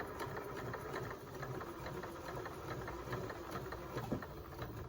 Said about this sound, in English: I'm just going to sew to the corner